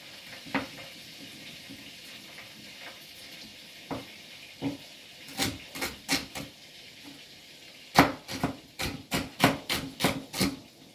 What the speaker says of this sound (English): Right, so there's chop it long ways again.